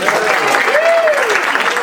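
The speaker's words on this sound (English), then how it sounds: "Just a teeny applause for him" Short burst of audience clapping for a stand-up comedian in a small comedy venue, with a tonal sliding sound rising and falling over it.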